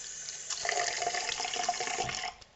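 Tap water splashes steadily over a hairbrush being rinsed clean at a sink, a short close rush of running water that cuts off at the end.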